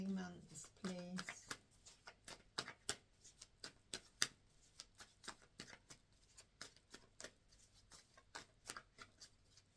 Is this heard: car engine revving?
no